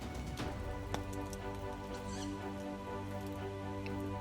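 Wood campfire at a wild camp, crackling softly with scattered small pops and ticks over a low steady hum, faint and continuous with no voices.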